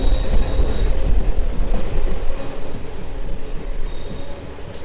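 A short, bright red passenger train runs along the line to Radhikapur near the India–Bangladesh border, a loud continuous rumble and clatter that eases slightly toward the end, with no speech.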